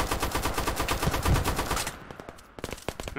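Rapid automatic gunfire from the military shooter Operation: Harsh Doorstop, dense and loud bursts for about two seconds, then a brief lull and a few sharper separate shots.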